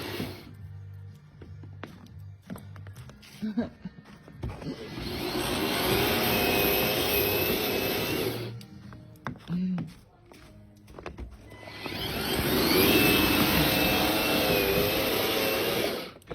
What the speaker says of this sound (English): It's the Ryobi Cordless snowblower.